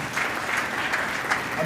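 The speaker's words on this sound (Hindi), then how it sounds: "तो एक बार ताली बजा के मुझे आदेशित कीजिए" Audience at a Hindi kavi sammelan poetry gathering claps steadily, a dense, even wash of applause from a crowd with no talk over it.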